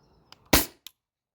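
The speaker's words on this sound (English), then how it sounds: "Last shot." A single sharp shot from a modified Valken M17 airsoft pistol running on a 700 PSI tank, a crisp close crack with a short tail and a faint click after, alone in quiet.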